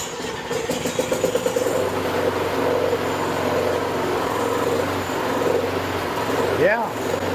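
A small engine runs steadily on a little gas in the tank, a continuous near idling drone with a faint rhythmic pulse throughout, and a short higher sweep near the end.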